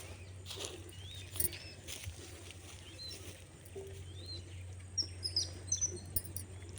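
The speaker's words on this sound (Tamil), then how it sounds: "எவ்வளோ குருவியை பார்த்தீங்களா தவிட்டு குருவி" Yellow-billed babblers chirp in repeated short, high calls over a rural farm setting, fairly distant and soft, scattered through the stretch against a steady low hum.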